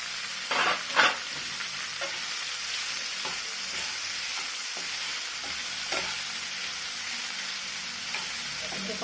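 Boiled green peas frying in a pan with ginger paste and asafoetida for kachori filling, a steady soft sizzle with a few sharp scrapes and stirs early on, then quieter frying.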